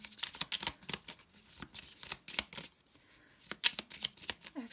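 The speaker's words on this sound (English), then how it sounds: "So next we're gonna shuffle" Tarot cards riffled and shuffled repeatedly in quick, crisp bursts, close up, with a short pause midway before the shuffling resumes.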